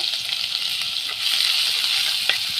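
Crushed garlic, bird's eye chili and ginger fry in hot oil for a Kerala sardine curry, giving a steady, loud sizzle with a few sharper crackles and pops, with no voices.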